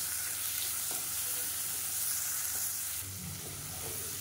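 Chopped onion and tomato sautéing with rock salt in a pan for a Madurai-style mutton bone soup, a steady close sizzle with a few faint clinks and stirring scrapes throughout.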